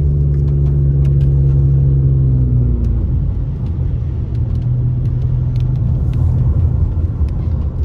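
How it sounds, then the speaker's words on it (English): A car drives along a road past Baldwin Lake near Big Bear City, California, during periods of heavy rain. A loud, close engine rumble holds steady while the car is under way, and the engine note shifts partway through. "We're just gonna drive through Baldwin Lake."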